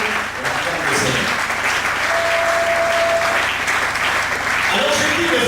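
Church congregation applauding steadily throughout, a dense continuous wash of clapping from a large gathering, with a brief sustained tone partway through and voices mixed underneath.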